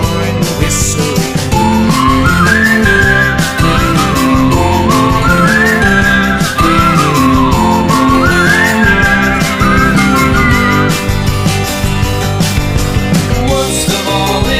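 Melodic whistling in a song rises and falls in bright, looping phrases over a full band backing of rhythm and chords, loud and carried along with the music.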